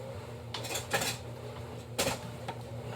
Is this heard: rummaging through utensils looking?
yes